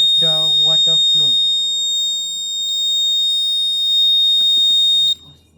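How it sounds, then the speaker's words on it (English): A continuous high-pitched electronic buzzer tone from a smart irrigation alert system, sounding when the soil is dry, plays steadily for about five seconds, with a person speaking briefly underneath at the start, then it cuts off. "the buzzer makes sound, and the motor gives the water flow"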